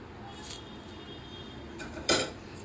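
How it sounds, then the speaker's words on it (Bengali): Vermicelli is stirred into milk in a pot, heard as quiet, sparse clinks of a utensil against the pot and a brief louder scrape near the end, with no talking. "সেমাইটা দিয়ে ভালোভাবে এইভাবে নাড়তে থাকবো যতক্ষণ না সেমাইটা নরম হয়ে যায়।"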